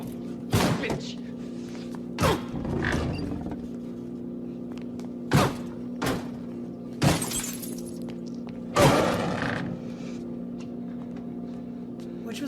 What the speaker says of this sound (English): when the car actually smashed through the windows